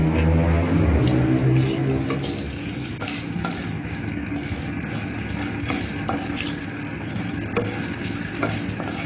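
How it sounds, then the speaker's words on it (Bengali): Dried red chillies and bay leaves hit hot oil, giving a crackling sizzle that starts loud and settles into a steady fry with occasional stirring taps, heard close and alone. "তেলটা গরম হয়ে গেছে, এখন আমি এর মধ্যে এই যে শুকনো মরিচ আর তেজপাতা দিয়ে দিব"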